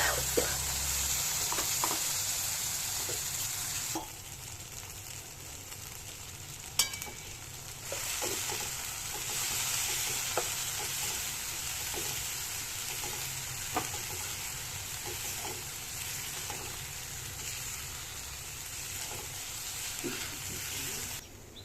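Ground masala of ginger, garlic and coriander with red chilli powder sizzles steadily in a pot as a spoon stirs through it, a continuous close frying hiss broken by occasional scraping knocks, no voices.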